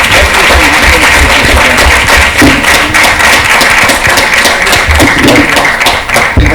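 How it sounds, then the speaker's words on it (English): Audience at an awards event giving a round of applause, loud dense clapping from many hands that carries on steadily for several seconds without talk. "Can we give them all a round of applause?"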